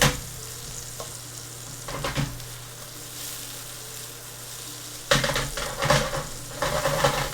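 Shrimp and garlic sizzle steadily in a hot pan for shrimp scampi, with stirring scrapes and light utensil clatter that swell louder near the end.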